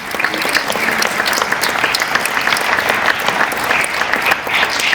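A dense, loud burst of clapping from a ceremony audience at a San Isidro awards presentation, held steady and close for the full five seconds, with no talk over it.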